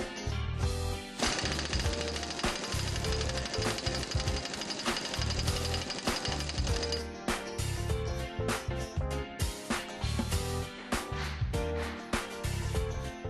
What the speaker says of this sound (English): Tighten the collar nut with the impact screwdriver.